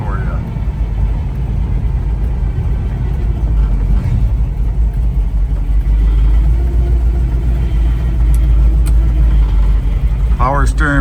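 A 1971 Chevrolet Chevelle SS convertible with a big cam drives, its engine rumbling steadily and loudly close by with rising revs through the gear shifts; talk runs over it.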